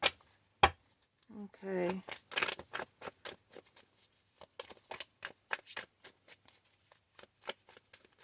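Tarot cards are shuffled and handled close up in a series of quick, papery flicks and taps, some in rapid bursts, with a voice speaking between them.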